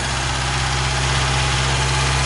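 A Fiat car engine idles steadily with the choke nearly closed while warm, a continuous close, even mechanical drone with a low hum and no talk.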